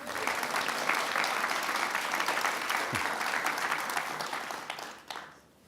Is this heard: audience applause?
yes